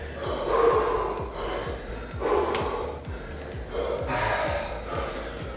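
Someone is recovering from a muscle-strengthening workout: three slow rounds of heavy, breathy exhaling with gasps rise and fall at close range over a low, rhythmic background thump.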